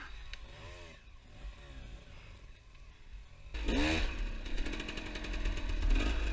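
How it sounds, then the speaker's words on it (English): A hard enduro dirt bike on a rocky climb, its engine rumbling low and then surging into loud revving as the rear wheel spins, the revs rising and falling in uneven bursts nearby. "the Zane is just spinning the rocks out of the way and throwing up dirt."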